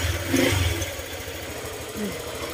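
A Honda Click scooter engine, smoking from oil on its exhaust and with a noisy drive bearing, idles low and steady as it warms up, quiet beneath nearby talking.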